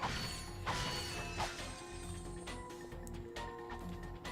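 Crates smashed open in Ratchet and Clank at Blarg Station, a run of cracking, clattering breaks and metallic mechanism clicks over a steady game hum, moderately loud with no talk.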